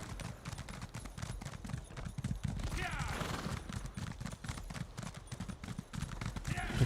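Rhythmic hoof clip-clops of a horse at a steady trot in The Elder Scrolls Online, mixed with game ambient sound and faint background noise.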